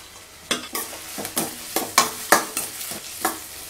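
Onion, curry leaves, ginger, garlic and green chili sautéing in a pan for poori masala, with a steady low sizzle broken by repeated sharp scraping strokes of a spoon stirring, close and alone without talk.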